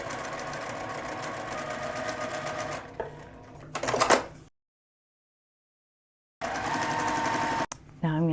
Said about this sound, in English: and then I'm gonna go sew.